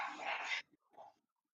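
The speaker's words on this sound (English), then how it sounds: "We got dogs barking." A dog gives a short, faint bark followed by a softer yip, distant and brief in an otherwise quiet space.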